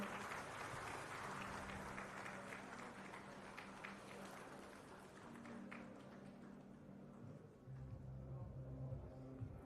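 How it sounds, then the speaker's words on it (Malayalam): Audience applause at a ceremony celebrating a Kerala Vision milestone, a dense sustained clatter of many hands from a large crowd, steady at first, easing midway and swelling again near the end, with faint voices and music underneath. "നിറഞ്ഞ കൈയടി വരട്ടെ"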